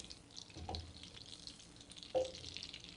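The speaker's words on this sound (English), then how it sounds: "this is now going to start bubbling, and you're actually going to be able to hear this, and that is because at this point you are evaporating off the water" Butter bubbles in a pan as its water cooks off, a soft, faint sizzle with small pops and a couple of clinks from a spoon stirring; no talk.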